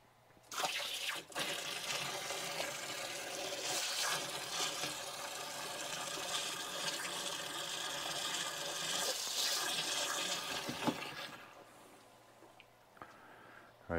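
Water floods into the tank of a ProtoMAX waterjet cutter with a steady, rushing gush that starts abruptly, runs evenly for about ten seconds, then tapers off into quieter trickling.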